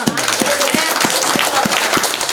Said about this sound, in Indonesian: Langsung tepuk tangan.